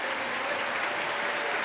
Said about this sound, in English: Griezmann getting the applause.